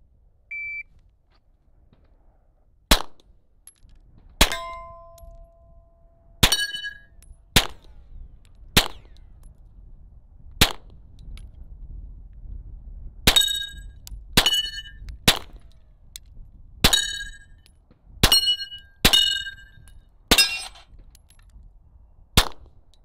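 A ZEV OZ9C-X pistol fired in about a dozen sharp shots, some ringing as they strike steel targets, spaced irregularly then quickening, with an electronic timer beep at the start and no talk.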